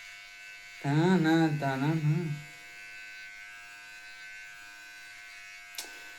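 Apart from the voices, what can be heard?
electric hair clipper cutting hair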